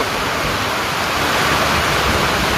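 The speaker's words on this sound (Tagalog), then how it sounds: "Grabing lakas ng ulan." Heavy rain pours down in a dense, unbroken broadband roar, loud and steady like a downpour close by, with no voices over it.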